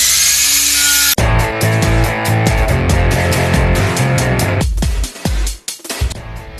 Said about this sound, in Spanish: lijando y probando para no pasarse